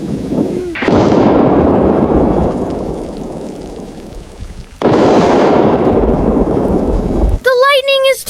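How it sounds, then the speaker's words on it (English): Loud rolling thunder during a night storm, two long booming rumbles that swell and slowly fade, followed by a brief burst of high tonal sound at the end. "The thunder is so loud."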